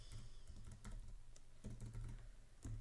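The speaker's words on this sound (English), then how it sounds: "I'm going to press Command and then the minus sign on my keyboard just to zoom out a little bit." Keys clacking on a computer keyboard while zooming out in Photoshop, a few quiet, scattered taps over a steady low hum.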